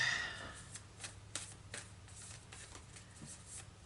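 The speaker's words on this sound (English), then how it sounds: "now I'm going to take two from the Angels and Angels and Ancestors Oracle cards" Oracle cards from an Angels and Ancestors deck being handled and drawn, a run of light papery flicks and soft slides at close range, fairly quiet with no speech.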